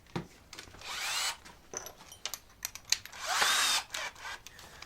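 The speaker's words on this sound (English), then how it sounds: "I've just hole punched it" Work on a pipe for a temperature probe, with two sustained bursts of grinding, rasping tool noise separated by short clicks and knocks, quiet and close with no talking.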